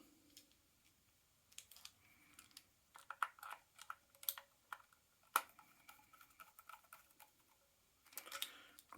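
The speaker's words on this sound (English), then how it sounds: "tighten down the grub screw in there" A grub screw is tightened down on a Double Bell BY-012: faint, scattered metallic ticks and small clicks, close and quiet, in irregular bursts.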